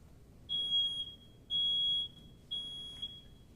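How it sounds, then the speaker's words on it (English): A smoke alarm sounds three piercing high beeps, each about half a second long and evenly spaced, clear against a quiet room. "you activate the smoke alarm."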